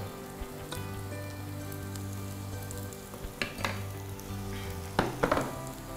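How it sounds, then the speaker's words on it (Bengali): Garam masala paste with salt and mixed vegetables frying for khichuri, a steady soft sizzle with a low hum underneath and a few louder spatters and stirring scrapes near the end. "সামান্য একটু ভেজে নেব।"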